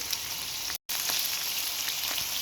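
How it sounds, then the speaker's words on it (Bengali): Chicken sizzling in a pan of oil with chopped onion, chili, ginger and garlic paste, a steady crackling hiss throughout with a brief dropout. "খুব ভালো করে ভেজে নিচ্ছি"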